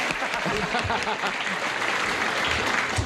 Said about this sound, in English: You can applaud, too.